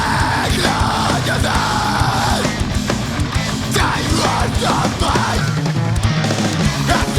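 Dense, loud song playing back through KZ ZST in-ear monitors, with a shouting vocal over full-band music that stays steady throughout and has no talking over it.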